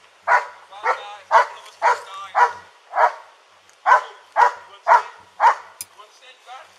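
A police dog barking at a suspect during an arrest, a steady series of about a dozen loud, evenly spaced barks heard close up with no talking over them.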